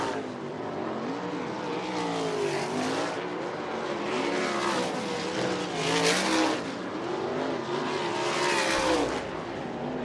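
USAC race cars practicing on the Ocala Speedway oval, engines howling and sweeping up and down in pitch as they circle the track, with several loud passes rising and fading.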